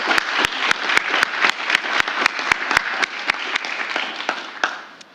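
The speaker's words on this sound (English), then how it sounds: "let's have another round of applause for this graduating class" A small audience at a certificate program graduation claps for the graduating class, with sharp, well-separated claps in a steady rhythm that thin out and fade away toward the end.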